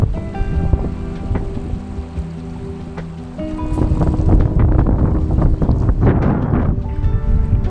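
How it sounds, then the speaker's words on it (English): Strong wind buffets the microphone in a steady, roaring rush on the Cape Wrath Trail, with louder gusts building in the second half and no voices. "Might be windy, but we're blooming lucky with the weather."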